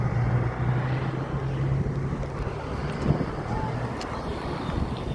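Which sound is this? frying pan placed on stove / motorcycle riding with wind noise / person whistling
motorcycle riding with wind noise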